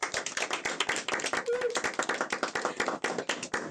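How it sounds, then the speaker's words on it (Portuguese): An audience applauds in a studio during a psychology talk show episode, with dense, rapid hand clapping from a group, loud and close, sustained throughout, with a brief voice rising faintly mid-way. "Palmas."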